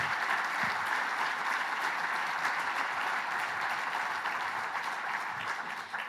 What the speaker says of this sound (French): Je vous invite vraiment à les remercier, à applaudir.